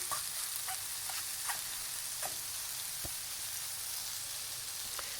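Mushrooms left to brown in a hot pan give off a steady sizzle and hiss, with a few faint clicks and taps from stirring, close and alone.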